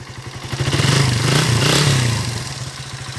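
A Suzuki Raider 150 motorcycle, back to life after being hauled in dead on a pickup, idles with a steady, close, rumbling engine note and a light mechanical clatter, rising slightly in the middle before settling.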